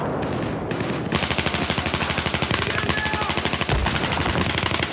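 Rapid automatic gunfire in Battlefield 4, a loud, sustained stream of evenly spaced shots after a brief quieter lead-in, with a short pause near the end before firing resumes.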